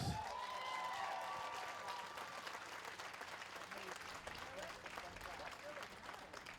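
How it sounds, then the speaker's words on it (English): An audience claps steadily at a college commencement ceremony in 2022, a dense wash of applause that holds for several seconds and slowly tapers, with a faint voice near the start. "Please give her another round of applause."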